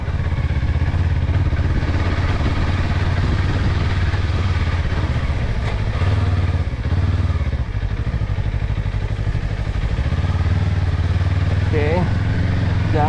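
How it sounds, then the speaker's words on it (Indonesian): A Kawasaki KLE 500 motorcycle rides off-road on rough ground, its mid-pitched engine droning loud and steady throughout with revving swells, clattering over bumps, and a voice speaking over it now and then. "Enak punya motor kayak gini nih, main-main kayak tempat gini nih"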